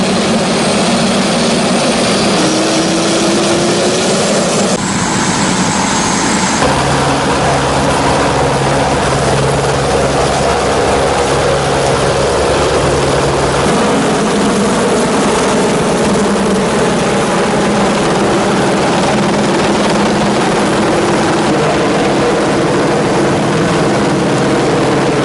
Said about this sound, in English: The helicopter arrives here after taking off from the Air Force camp in Sigiriya.